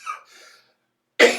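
A single sharp cough bursts out at the end after a brief pause, preceded by faint murmuring.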